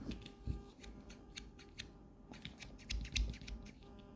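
Small scissors on a Xiaomi NEXTOOL multitool give a series of faint, crisp metallic snips and clicks in uneven rhythm over a low room hum.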